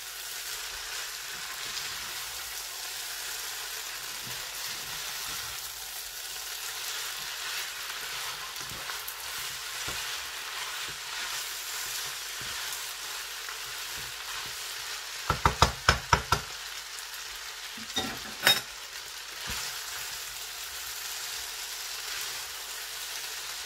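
Chicken spaghetti with spring onions stir-frying in a pan, a steady broadband sizzle throughout with a few sharp scraping clinks of the utensil near the end, no talk.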